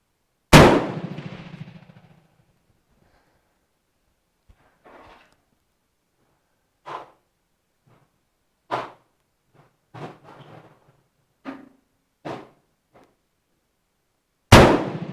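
Shots from a MAS 49/56 rifle ring out outdoors, a loud opening crack, then several sharper, lighter reports and metallic clanks spaced irregularly, with a final loud blast at the end.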